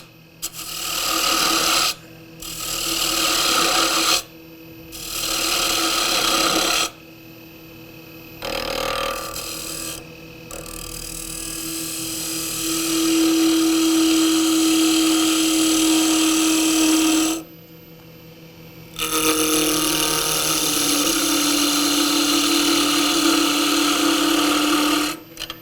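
Wood spinning on a lathe while a tool shapes it into the cone of a kitchen scoop, a steady loud scraping and rasping cut in long stretches broken by short pauses.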